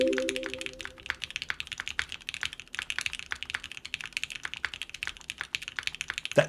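Keys clatter on a Keycult 2/65 aluminum keyboard with Lavender switches and an aluminum weight, a quick close run of crisp clacky keystrokes typed steadily over faint background hum.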